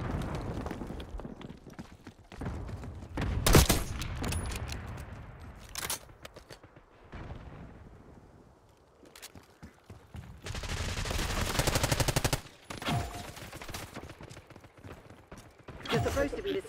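Call of Duty gunfire crackles in bursts and single loud shots, with mechanical clatter between them, rising in two heavy stretches and dropping away in a quieter gap in the middle.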